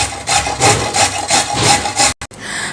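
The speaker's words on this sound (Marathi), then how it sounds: "आपण सगळी गाजरे अगोदर किसून घेऊया" Carrots are grated by hand in about seven rhythmic, rasping strokes, close and fairly loud, before the sound cuts off briefly.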